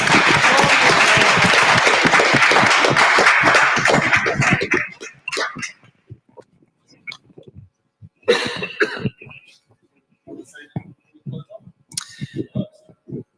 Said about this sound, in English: please give a big round of applause to our candidates